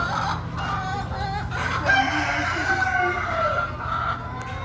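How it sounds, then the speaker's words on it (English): Several roosters crow over one another amid clucking chickens in a county fair exhibit barn, loud and close, with a constant low hum underneath. "Lots of chickens and roosters in here."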